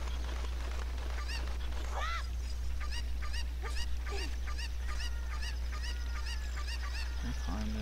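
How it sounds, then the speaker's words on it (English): Chickens in the video game Zelda: Ocarina of Time let out a rapid series of short, nasal clucks and squawks, repeating steadily over a constant low game hum. "Chicken, chicken, chicken."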